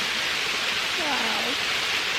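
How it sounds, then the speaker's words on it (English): A Peak District waterfall rushes in a steady, broadband roar, close and constant throughout, with a faint voice briefly audible over the water. "Waterfall"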